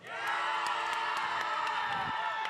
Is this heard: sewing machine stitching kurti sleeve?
no